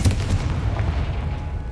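A Confringo explosive spell cast in the Hogwarts Legacy video game erupts as a loud, deep booming blast that rolls on as a continuous low rumble, with no voices over it.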